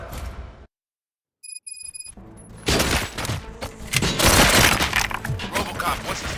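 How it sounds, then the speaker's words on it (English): Gunfire bursts in the video game Robocop Rogue City, starting after a brief silence and electronic beeps, then loud rapid shots and crashes with voices talking over them. "Gunshots? What's going on?"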